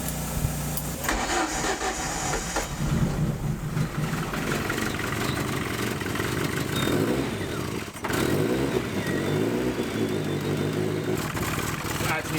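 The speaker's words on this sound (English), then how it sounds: "it's got a really bad exhaust leak" A compound turbo diesel engine starts and idles roughly with a loud exhaust leak at the wastegate bellows, a continuous ragged chuffing rumble close by, with a voice talking over part of it.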